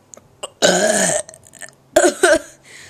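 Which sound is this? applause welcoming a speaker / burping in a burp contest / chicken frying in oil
burping in a burp contest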